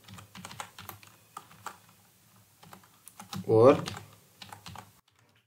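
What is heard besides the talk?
typing C++ code on a computer keyboard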